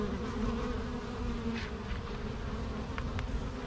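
A swarm of bees buzzes around an active hive in a dense, steady drone that holds without pause at close range, with a few individual bees whizzing briefly past the ear.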